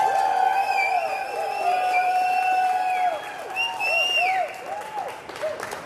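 An audience at a 2021 event cheers and applauds for an honoree, with high whoops and shouted cries riding over a steady wash of clapping that eases slightly toward the end.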